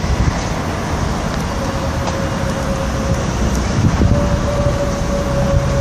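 A Class 66 goods train in England, Wales and Scotland livery rolls into Eastleigh station from the switching yard, a steady low rumble of wheels and engine with a faint sustained tonal whine across the whole stretch.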